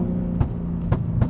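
A BMW G81 M3 Touring with an 800 hp single-turbo conversion, in sport mode, lets out three sharp exhaust pops on downshifts over a steady low engine drone, heard from inside the car.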